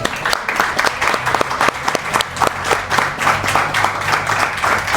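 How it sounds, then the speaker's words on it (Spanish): Audience at a book fair breaks into applause, with loud, close individual claps over a busier crowd patter and a low hum beneath, sustained for several seconds. "Se merece un aplauso."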